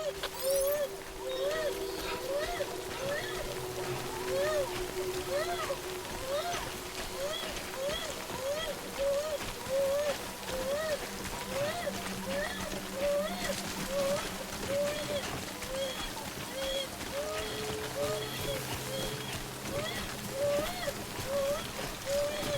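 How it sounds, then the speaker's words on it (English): Steady rain hisses throughout a stretch of the Death Stranding video game, with a repeating chirping tone and soft game ambience, and a voice speaks over it in places. "Dang, it's raining."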